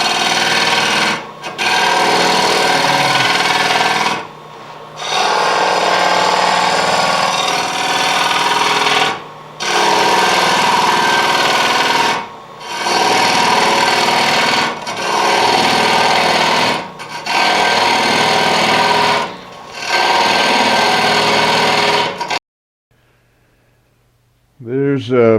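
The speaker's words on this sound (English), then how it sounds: "There's very little effort here with the carbide cutter. It's real easy and efficient." Wood lathe hollowing a natural edge hollow form with a carbide cutter, a loud rough scraping and rasping in repeated bursts separated by short pauses, ending in silence with a brief voice.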